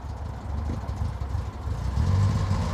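A 1970s classic car engine runs with the choke pulled out, a low, rough rumble that rises in revs toward the end, close by and steady.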